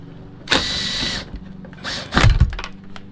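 A plastic expansion rivet with a Torx head is worked loose from the rear fender of a 2015 Ram 2500, heard as two short bursts of sharp plastic scraping and clicking, close and loud.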